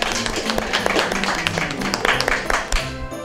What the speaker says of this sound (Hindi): जी तालियां बजाएं इनके लिए